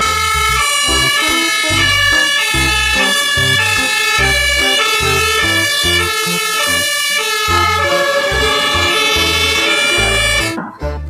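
A loud electronic siren wails continuously in a fast, warbling rhythm with a pulsing low beat underneath, cutting off abruptly at the end, like a toy fire truck.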